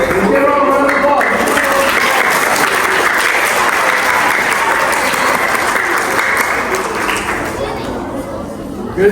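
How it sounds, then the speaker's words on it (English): A school audience claps, steady sustained applause filling the room at full volume for several seconds with some chatter mixed in, tapering slightly at the end. "Let's give her a round of applause."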